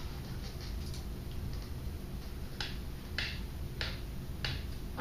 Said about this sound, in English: If you guessed clapping, then you are right.